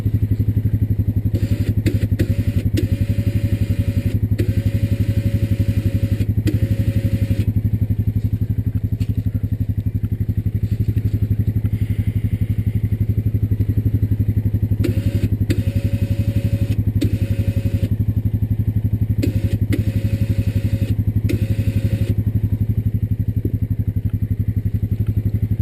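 A Honda Rancher 420AT ATV winch runs steadily for a long stretch, spooling up cable under some tension in a steady droning whine with intermittent clatter and scraping, close and continuous.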